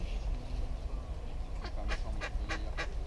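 A duck quacks at Parc de la Tête d'Or in Lyon, a run of five or six quick nasal quacks, close and moderately loud over low outdoor park rumble.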